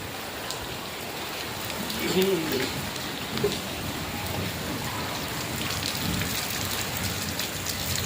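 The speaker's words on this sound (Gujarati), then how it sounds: "આવો ધીમો ધીમો ધીમો ધીમો ધીમો શરૂ છે વરસાદ" Steady rain falls in a continuous hiss, with a voice briefly speaking over it partway through.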